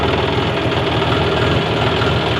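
Tractor engine running nearby, loud and steady with a rough knocking, idling rhythm that holds unchanged throughout, no voices over it.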